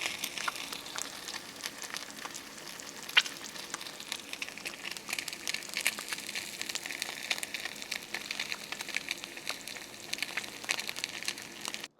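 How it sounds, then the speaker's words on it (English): Food sizzles steadily in a pan throughout, a dense crackling hiss with scattered sharper pops, moderately close and alone with no voices. "the other could be used to capture things like sizzling sounds"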